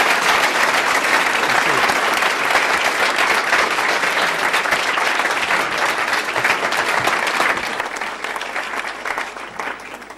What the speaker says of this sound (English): A round of applause for the Chancellor